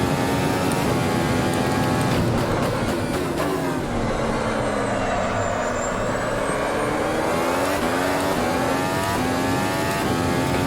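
Simulated Formula 1 car from the 2019 season in Automobilista at the Circuit of the Americas in Austin, a loud continuous engine note that drops and climbs in pitch through a downshift and corner exit, close and unbroken.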